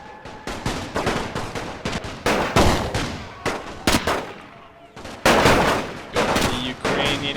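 Sharp shots and rattling gunfire with booming impacts aimed at infantry in a WWI strategy video game, repeated loud bursts filling the stretch in quick succession.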